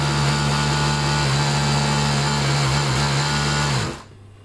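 An overlock sewing machine runs and stitches with a loud, steady, high-pitched mechanical whir close by for about four seconds, then abruptly winds down and stops.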